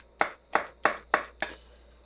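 Five evenly spaced knife chops through boiled eggplant chunks in a bowl, each a crisp close tap with a short tail, steady rhythm and no talking.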